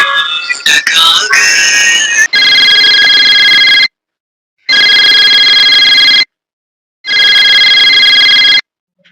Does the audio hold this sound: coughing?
no